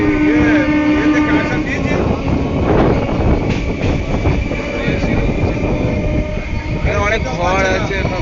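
A passenger train runs at full speed, its loud steady rumble and wheel clatter filling the scene, with tonal squeals and a brief horn-like tone; people talk over the rail noise.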